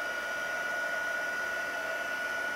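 A steady, even whoosh from an electric heat tool runs without pause as it blows hot air to melt embossing powder on a handmade card, close and constant.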